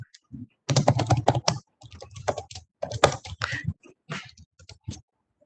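Bursts of fast clicking on a computer keyboard as code is typed, close and fairly quiet, separated by short pauses with no talking.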